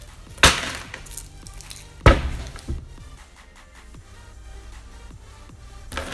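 A tall tower stacked from Goleador candies collapses, with two sharp clattering crashes of pieces hitting a hard surface, a later burst near the end, and small scattered taps between them. No one speaks.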